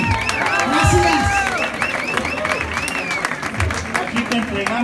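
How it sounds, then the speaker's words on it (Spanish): Audience applause and cheering for the backing musicians at a rock and blues awards ceremony, a dense crowd wash with a voice speaking over it. "Y el aplauso para mis músicos, los místicos, por favor, también."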